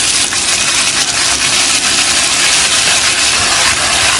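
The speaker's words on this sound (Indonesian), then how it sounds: "Nah, untuk menggoreng tahunya kali ini nggak perlu minyak yang banyak banget" Tofu fries in a small amount of oil in a wok, giving a loud, steady, broadband sizzle that stays unbroken throughout with no voices.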